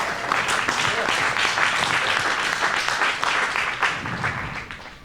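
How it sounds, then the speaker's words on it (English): Audience applause at a design event, a dense crowd clapping steadily for several seconds before tapering off, with some voices mixed in underneath. "Yes, I think that deserves applause."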